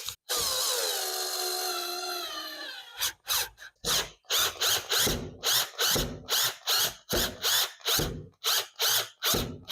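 A power drill drives screws to fit a window handle in a 1930s French town house renovation, one long whine followed by a close, loud string of short stop-start bursts.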